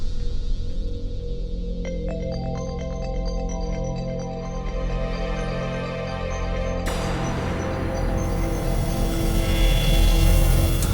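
A phone ringtone plays a repeating electronic melody, steady and fairly loud, shifting to a brighter pattern partway through with no talking.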